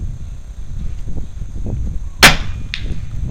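A single sharp crack from a .30 cal open-sight rifle rings out outdoors, loud and abrupt, with a faint echo after it over a low rumbling background.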